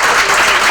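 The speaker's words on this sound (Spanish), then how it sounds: "les agradecemos con un fuerte aplauso" Brief, loud applause from an audience at a corporate responsibility conference, a dense wash of many hands clapping together with no pauses.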